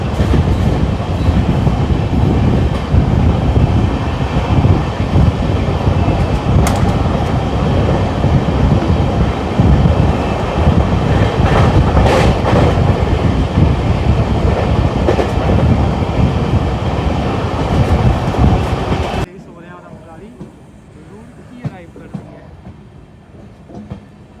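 Amrit Bharat Express passenger train running through Laksar junction in Uttarakhand, a loud, steady rumble with clickety-clack of wheels on rail joints lasting about nineteen seconds before dropping abruptly to quieter background.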